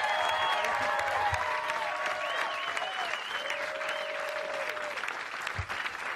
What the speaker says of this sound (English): Folks, round of applause for Susanna Brisk